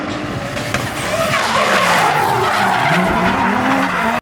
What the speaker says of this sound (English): Having cars go by 70, 80 miles an hour like 8 inches from you, sideways